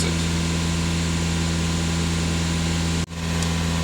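VW Passat B8 Alltrack engine held at a steady 2500 rpm, a continuous loud hum with a strong even drone that cuts out sharply for a moment near the end, then resumes.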